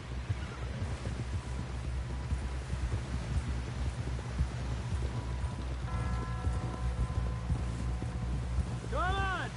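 Horse hooves clip-clop at a steady gait in Red Dead Redemption 2, continuous under rain-like ambience and music, with a brief whinny near the end.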